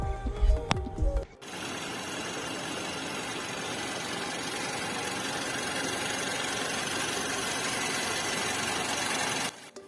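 The 1.6-liter turbocharged engine of a 2016 Mercedes C180 idles with a steady, fairly quiet mechanical hum and whir. A brief clatter comes just before it, and the sound holds evenly for about eight seconds before cutting off.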